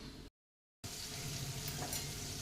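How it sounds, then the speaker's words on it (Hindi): A tadka tempering for dal sizzles in hot oil, a dense crackling hiss that cuts out briefly and resumes, steady and close, with no talk over it. "ये मेरा तड़का लगभग तैयार हो चुका है, बन गया है।"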